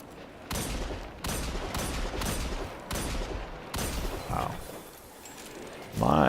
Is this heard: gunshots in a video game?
yes